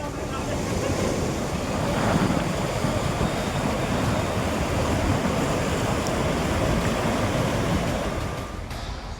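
Flood water rushes steadily through a temple complex in Nashik during heavy rain, a dense, unbroken roar of turbulent water mixed with wind-like noise that holds at the same level throughout.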